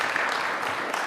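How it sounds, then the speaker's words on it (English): Applause from an audience at a governor's public event on COVID-19 boosters, a dense steady wash of clapping lasting about a second with no break. "So let's give another round of applause to Dr. Kane for everything he's done."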